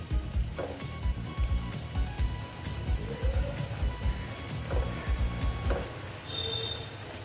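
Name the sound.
stirring and mixing teasel gourd vegetable curry in pan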